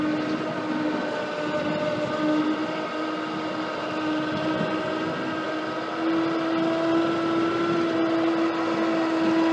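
An electric winch pulls an International Harvester Model 1200 Cub Cadet lawn mower onto a tilt-bed trailer. Its motor gives a steady, droning whine that holds an even level throughout, with no talking.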